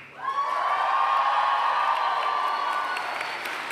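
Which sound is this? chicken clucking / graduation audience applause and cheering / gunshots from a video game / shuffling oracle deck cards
graduation audience applause and cheering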